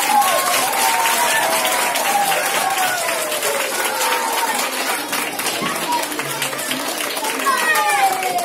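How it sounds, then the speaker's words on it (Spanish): Audience applause for pupils at an end-of-year primary school festival in Salinas, dense continuous clapping with lively chatter and children's voices mixed in, steady and fairly loud from start to finish. "Un fuerte aplauso para ellos."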